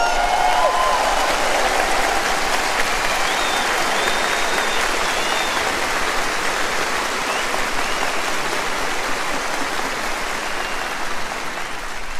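Large concert audience in São Paulo applauding at a show, a dense, steady wash of clapping that fills the whole stretch at full level and eases slightly near the end.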